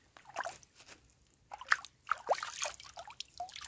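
Clear spring water trickles and drips in small splashes as a little is scooped up by hand at its source on a rural property, heard close up in brief, irregular plinks and gurgles.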